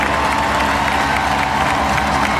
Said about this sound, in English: Big round of applause for Lando Norris.